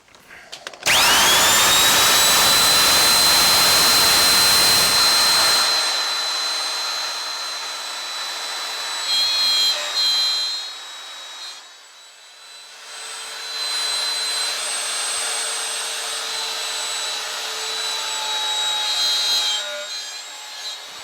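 A power drill whines loudly as it bores into walnut wood chair legs, then stops abruptly; quieter machine hum and intermittent whirring follow at a steady level.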